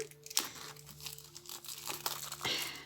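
A small cardboard box of tarot cards is opened gently, giving close, quiet crinkling and rustling with a few sharper tearing snaps along the way.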